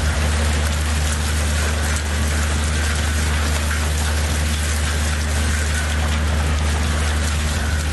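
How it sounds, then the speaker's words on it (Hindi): Heavy rain falling in Islamabad, a dense continuous hiss of pouring water with a steady low hum beneath, loud and unbroken throughout. "किस कदर शदीद बारिश इस वक्त हो रही है इस्लामाबाद में"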